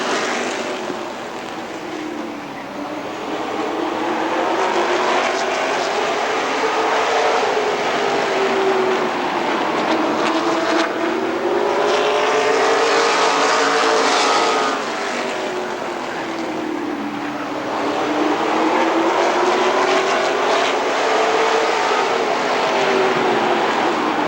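Race cars lapping Rockford Speedway, engines roaring loudly and continuously with rising and falling pitch as the pack circles the oval, no talk over the din.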